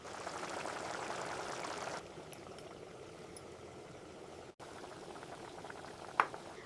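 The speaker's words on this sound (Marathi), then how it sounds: "आता 1 कप पाणी, कोथिंबीर आणि मीठ घालून हे छान उकळू द्यायचे." Patvadi rassa curry with water, coriander and salt boils in a pot, making a quiet, steady bubbling hiss that softens midway, with one brief click near the end.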